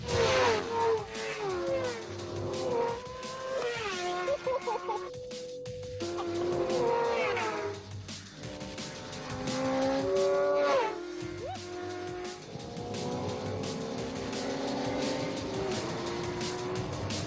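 Sport bikes racing at a track, their high-revving engines whining and sweeping up and down in pitch as they pass, loud and continuous, with several machines overlapping.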